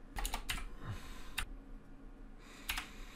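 Keys on a computer keyboard are tapped to enter a name, with quiet, close clicks in short irregular bursts separated by brief pauses.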